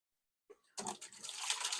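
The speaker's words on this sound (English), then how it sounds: "All right, let me dump this out." Aquarium tank water is dumped out during a large water change: after a faint splash, a steady, close gush of pouring water starts and keeps running to the end.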